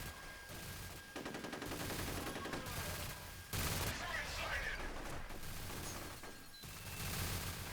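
Gunfire in the shooter game F.E.A.R.: Extraction Point, rapid automatic bursts rattling in several stretches with short gaps and a heavier blast midway, fairly quiet, with game sounds around it.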